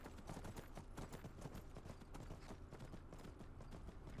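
Horse hooves in the Skyrim video game, a steady rhythmic clip-clop of riding at a walking pace, quiet and even throughout with no speech.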